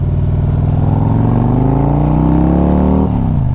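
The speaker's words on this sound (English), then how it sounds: "Let's see how this bike runs." A 2001 Harley-Davidson Ultra Classic engine runs loud and close, a deep steady rumble that swells in pitch as it revs, then drops suddenly near the end.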